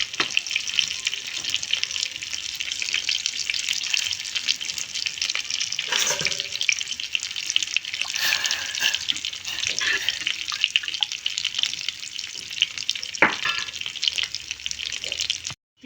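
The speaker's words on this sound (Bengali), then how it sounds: "এখন আমি গরম পানি দিয়ে সেদ্ধ করে নেবো।" Meat boils with salt in hot water in a pot, making a steady, close hissing bubble with occasional clinks and knocks throughout.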